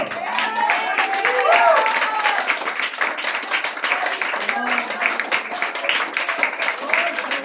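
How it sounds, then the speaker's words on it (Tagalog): A church congregation claps loudly and steadily for the Lord, a dense wash of many hands close by, with voices calling out over it. "ipalakpak natin ng malakas sa Panginoon"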